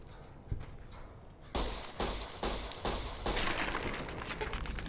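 Gunfire in Fallout New Vegas aimed at fire ants, a burst of several sharp shots after a quieter stretch, then louder crackling impacts and rumble continuing to the end.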